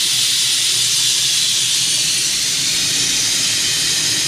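Compressed air vents from a waste oil furnace with a loud, continuous, steady hiss, close up and unbroken throughout.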